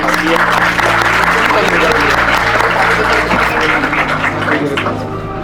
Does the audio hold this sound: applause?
yes